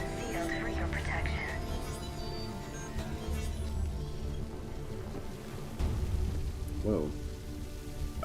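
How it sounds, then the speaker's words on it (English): An indoor sprinkler sprays water in the video game Mass Effect 3, a steady rain-like hiss under game sounds, with a person exclaiming briefly. "Oh, sprinkler. I was like, why is it raining in here?"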